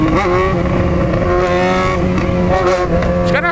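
A Honda CB500 motorcycle engine revs loudly and steadily throughout, holding a dense, continuous roar with a slight rise in pitch near the end.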